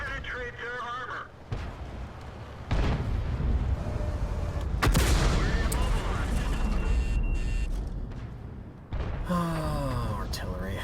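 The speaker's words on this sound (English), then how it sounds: "Ah, artillery." Artillery shells burst near a tank in World of Tanks, with a sudden heavy blast and rumbling debris rising out of steady engine and battle noise, a voice sounding briefly before and after.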